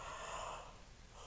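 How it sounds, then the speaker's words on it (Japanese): A woman lying on a bed gives a short, soft, breathy yawn, a faint exhale that fades out over about a second. "なんかね、あくび出ちゃった。"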